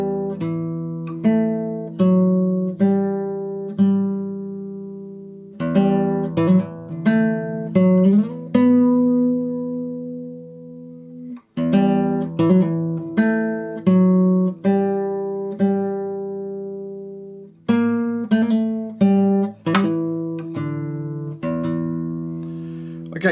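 Solo guitar playing the opening line of a piece from The Last of Us, freely timed plucked notes and arpeggiated chords ringing out and decaying, clear and close with no talking.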